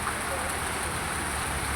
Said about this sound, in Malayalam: കുന്നിക്കോട് നല്ലൊരു മഴ പെയ്തുകൊണ്ടിരിക്കുകയാണ്.